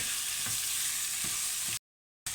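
Pork pieces browning in a stew pot, a loud dense continuous sizzle with occasional stirring scrapes, cut by a brief silent gap near the end.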